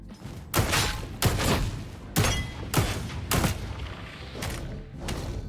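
Gunfire from a small pistol in a video game: sharp broadband shots in an irregular sequence, about seven over a few seconds, fairly close and loud, with a rumbling background between them.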